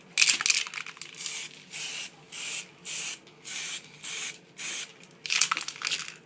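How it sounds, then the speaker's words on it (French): An aerosol spray paint can coating an Xbox controller hisses in six to seven short, evenly spaced bursts of about half a second each, close and fairly loud, with light handling noises at the start and end. "on va là cette bombe, essayer de mettre 3 couches à peu près de peinture à chaque fois"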